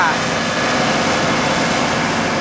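A road roller's engine runs at a road-work site with a constant, loud, rumbling drone and steady vibration, and a voice speaks faintly over the machine noise.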